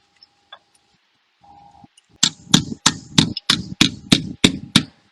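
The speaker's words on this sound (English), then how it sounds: "Again, I'm using a shrinking hammer to shrink down the dent" A shrinking hammer taps down a dent in a car body, a close, loud, steady series of about nine sharp metallic strikes after a few faint ticks and a brief tone.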